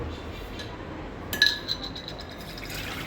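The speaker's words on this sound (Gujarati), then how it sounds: "આ તપેલીમાં પાણી ભરીને આપણે મૂકી દઈશું." A metal pot clinks, then water runs into it with a steady hiss that carries on to the end. Close and fairly quiet.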